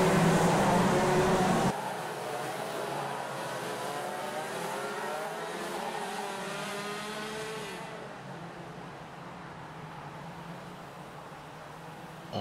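Racing cars driving on a track, their engines roaring loudly in a sustained, rising and falling drone as they pass through corners, with the sound gradually fading toward the end.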